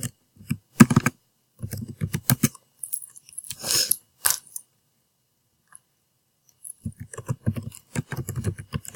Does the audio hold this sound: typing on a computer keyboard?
yes